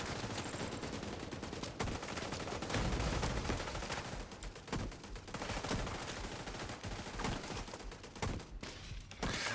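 Turret gunfire in a video game, rapid continuous bursts of shots, loud and dense throughout with no speech.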